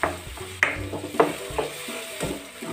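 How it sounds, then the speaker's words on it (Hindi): Spices and whole green chillies fry in oil in a pan for a vegetable dish. Close, irregular metallic scrapes and clanks of stirring ring out over a soft sizzle. "ताकि हमारे मसाले अच्छी तरह से फ्राई हो जाएं।"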